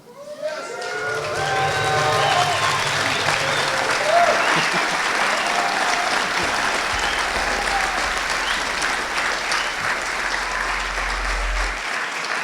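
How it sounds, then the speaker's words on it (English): A conference audience at Anarchapulco 2018 gives sustained applause after a speaker introduction, a broad wash of clapping that builds quickly and holds steady for about twelve seconds, with a low tonal hum underneath. "did you hear the applause?"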